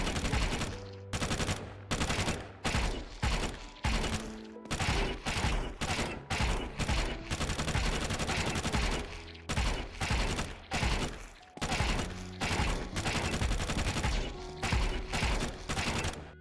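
Bursts of automatic rifle fire from Counter-Strike 2 spray transfer practice with guns such as the Galil and FAMAS, loud and close, in rapid sustained volleys broken by short pauses, with no talking.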